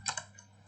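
A few quick key presses on a computer keyboard while ipconfig is typed into a command prompt, two close clicks near the start, then quiet, with no speech.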